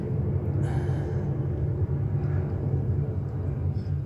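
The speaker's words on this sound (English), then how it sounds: "that's a plane." An airplane passes overhead while pet frogs are being cared for indoors, giving a steady, loud low rumble that fills the whole stretch without a break.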